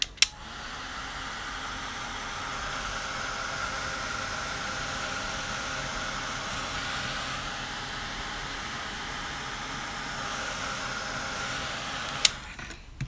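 Handheld dryer blowing steadily on a painted art journal page, a constant faint whooshing hiss with a click at the start and near the end as it switches on and off.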